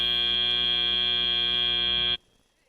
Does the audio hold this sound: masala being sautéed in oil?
no